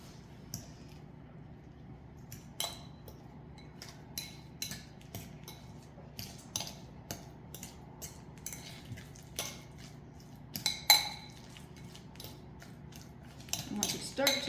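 A fork mashes bananas in a bowl for banana muffins, making irregular faint clinks against the bowl and soft squishes, spaced out across a quiet background.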